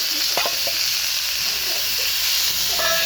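Vegetables sizzle steadily in a hot pan with curry leaves and fresh coriander, a constant close frying hiss with a few soft stirring scrapes and clinks.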